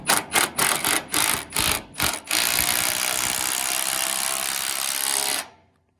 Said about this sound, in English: We got all these lag bolts installed quickly